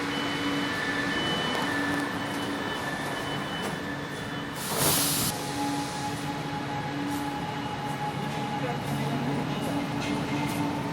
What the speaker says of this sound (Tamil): நான் ட்ராவல் பண்ண போகிற வண்டி வந்துருச்சு